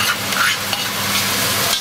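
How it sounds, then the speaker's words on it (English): Onions hit a hot pan with a little shrimp paste powder for kandratiki in tomato sauce, a loud, close, continuous sizzle and hiss throughout the short clip. "To that, we're gonna add the onions."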